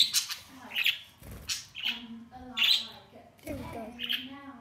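Pet birds kept indoors chirping and squawking in short bursts, close and fairly loud, with sharp high calls repeating every second or so and some faint background voice.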